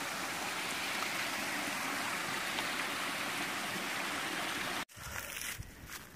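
Waterfall cascading beside a steep hiking trail, a loud steady rushing roar that fills the first five seconds alone, then cuts abruptly to a quieter, more distant water wash.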